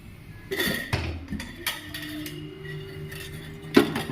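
Pan set down on a stove, a few sharp metallic clanks and clinks spread over four seconds, close and distinct against a quiet kitchen background.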